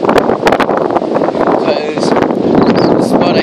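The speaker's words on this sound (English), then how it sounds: "Oh my god, it's so windy." Strong wind blowing outdoors roars and buffets against the microphone in loud, gusty surges for the whole stretch, with brief voice sounds caught under the rumble.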